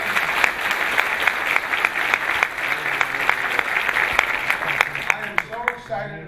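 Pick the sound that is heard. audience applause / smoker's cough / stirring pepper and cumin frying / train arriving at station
audience applause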